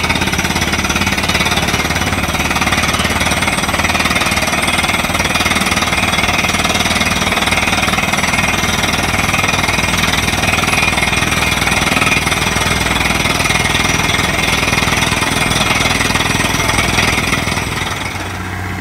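A rig drilling an artesian well on a rural smallholding hammers without a break, a loud, dense percussive roar that holds steady for the whole stretch.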